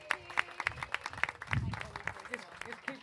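Wedding guests at a waterfront reception in St Julian's, Malta, clap in short bursts of applause beneath someone speaking into a microphone.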